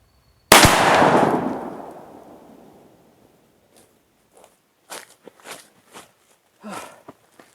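One loud, close Marlin 1895 lever-action rifle shot cracks out and booms into a long decaying echo, followed by scattered quieter handling sounds and shuffling.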